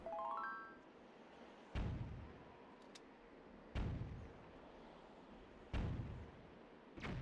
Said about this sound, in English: And I still hear those cannons going off.